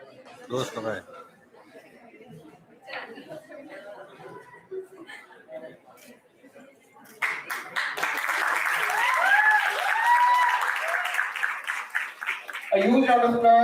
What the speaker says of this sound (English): A huge round of applause for Goenka Institute.